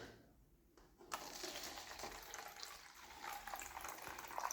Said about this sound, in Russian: И наливаем в стаканчик.